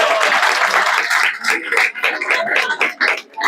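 Applause from an audience at an ISKCON centre religious discourse, dense clapping that swells and dips in bursts, with voices mixed in beneath it.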